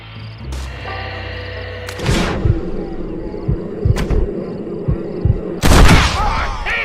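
Gunfire in the Red Dead Redemption video game: several sharp shots and thuds in quick succession over a musical score, with a loud final burst near the end.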